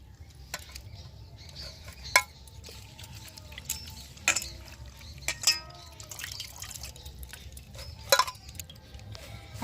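Freshly washed neem leaves drop into a kitchen mixing jar as water drains off, making sparse drips, light pattering and a few sharp clinks against the jar, close by in a quiet room.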